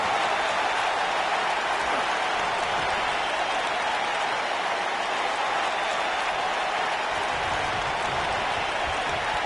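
A large wrestling arena crowd at a WWE pay-per-view applauds and cheers in a dense, continuous roar of clapping that holds steady throughout with no pauses.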